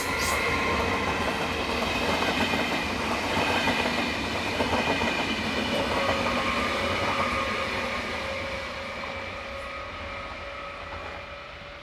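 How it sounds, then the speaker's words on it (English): Swiss trains roll through Gossau station, including the metre-gauge Appenzellerbahn, with a steady loud rumble of wheels on rails, clattering joints and faint tonal squeals, gradually easing toward the end. "The meter gauge Appenzellerbahn runs into the station"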